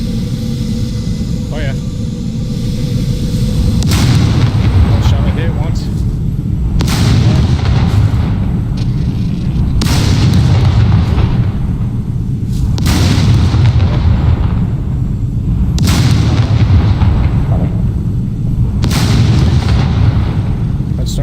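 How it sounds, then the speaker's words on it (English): Repeated heavy blasts from an automated turret in the SCUM survival game, about six sharp booming shots spaced roughly every three seconds over a constant low rumble. "Turret, do your thing"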